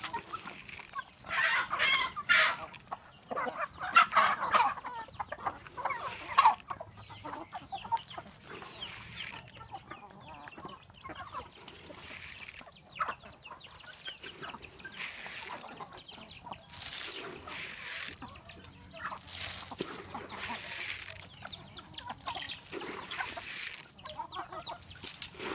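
Several chickens on a poultry farm cluck and murmur nearby in an irregular stream as they eat scattered feed, with occasional louder squawks and scratching sounds, fairly quiet overall.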